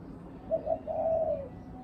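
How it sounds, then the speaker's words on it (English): A bird calls right outside a window, a few soft cooing notes followed by a longer drawn-out coo, clear but moderately quiet over a low indoor background hum. "There's a bird right outside the window."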